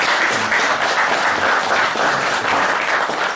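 Audience applause at a talk about coming to Westport, a dense steady wash of many hands clapping at close range throughout, with no speech.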